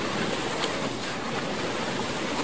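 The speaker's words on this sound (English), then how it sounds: "And just hear that water animation." Placed water feature in Farming Simulator 22 runs with a steady, loud, broadband rush of flowing water, constant and unbroken throughout, with no voices.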